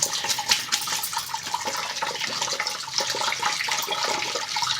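Cold tap water gushes over drained boiled Maggi noodles held in a strainer in a kitchen sink, a loud, continuous splashing rush that runs without pause.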